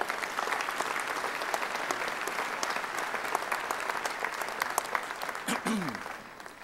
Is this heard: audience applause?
yes